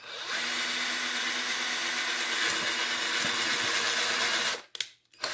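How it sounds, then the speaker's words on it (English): A power drill whines steadily as it bores a hole into a 3D-printed Super Mario statue hand part, holding a loud even pitch for about four seconds before stopping abruptly, followed by brief clicks. "Drill a hole."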